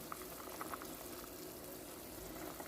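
A pot of thin South Indian saaru (rasam) boiling on the stove, a soft, steady bubbling hiss that is faint and continuous, with no voices.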